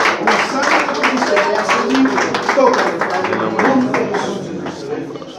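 A church congregation claps and applauds together, a steady, fairly loud patter of many hands running for several seconds while voices talk and call out over it.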